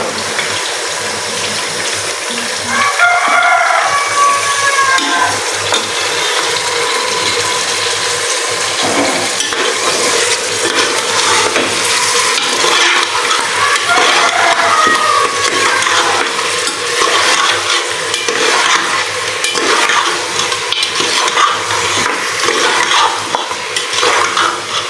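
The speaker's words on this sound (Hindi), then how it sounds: "हमें बहुत अच्छी तरह से इसकी भुनाई करनी है" Mutton for a Shinwari karahi is stir-fried in a pan, making a loud, continuous watery hiss and sizzle with constant scraping of stirring and no voices.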